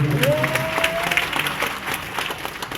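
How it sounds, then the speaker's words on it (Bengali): Audience clapping fills a lecture hall after a health presentation, a dense steady patter of many hands with a faint tone sliding through at the start. "একটা হাততালি দিতে পারেন।"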